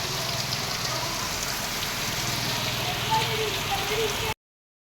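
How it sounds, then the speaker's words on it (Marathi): Monsoon rain falls steadily on a rural yard during paddy-planting season, making a constant close patter and hiss that stops abruptly before the end. "कसा हा पाऊस आता असाच राहणार मंडळी"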